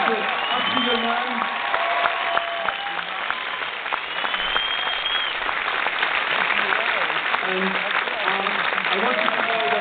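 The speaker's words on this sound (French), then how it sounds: "Un dernier applaudissement" A final round of audience applause at the Angoulême 2011 comics festival: a sustained, dense clapping that stays steady at moderate loudness, with a voice speaking faintly underneath.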